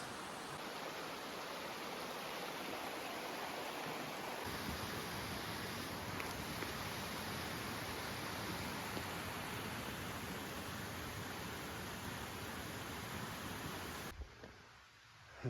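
Creek water flowing in Sage's Ravine along the Appalachian Trail in Connecticut: a steady, broad rushing wash, close and continuous, with no voices.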